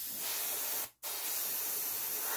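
Airbrush spraying paint for a Dragon StuG.III Ausf.C/D model kit, its nozzle partly blocked, gives a steady close hiss that cuts out completely for a moment, then resumes.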